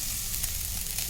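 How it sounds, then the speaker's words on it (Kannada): Steady, loud sizzle of hot oil as turmeric powder goes into a pan holding mustard seeds, cumin, garlic and onion for a moringa leaf curry, continuous frying hiss with no talk. "ಈಗ ಅರಿಶಿನ ಪುಡಿ ಹಾಕೊತಿದ್ದೀನಿ"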